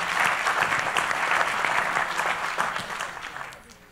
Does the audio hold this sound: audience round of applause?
yes